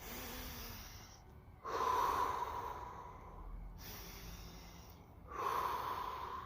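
Slow, deep breaths taken during chi breathwork, in two long drawn cycles, each with a rushing nasal inhale followed by a quieter exhale. The breathing is close and calm, with no talking.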